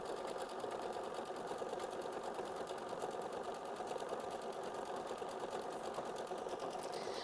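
A sewing machine stitches quilt blocks with a fast, even mechanical whir and ticking needle rhythm, steady and close with no break for the whole stretch.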